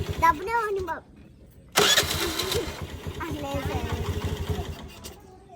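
A motorbike engine struggles to start in cold rain: after voices talking, a sudden loud cranking burst catches and settles into a rough, uneven running sound as talk resumes.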